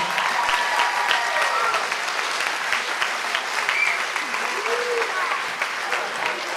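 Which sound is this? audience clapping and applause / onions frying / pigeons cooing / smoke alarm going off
audience clapping and applause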